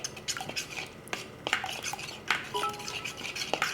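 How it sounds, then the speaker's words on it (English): A utensil stirs food in a cooking pan with scraping, clinking strokes against the metal at an uneven pace, close and moderately loud, with no speech. "give it a good stir here"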